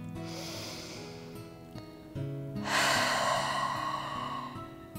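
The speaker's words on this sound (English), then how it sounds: "Let's take a full breath." A full, deep breath drawn during a yoga shoulder exercise, a long steady inhale swelling into a louder, airy exhale over a low sustained drone, close and unhurried.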